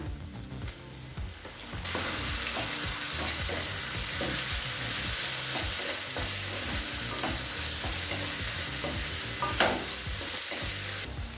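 Chopped onion and tomato fry in a pan for Chennai vadacurry; after a quiet start a loud steady sizzle sets in, with rhythmic scraping and clatter from repeated stirring.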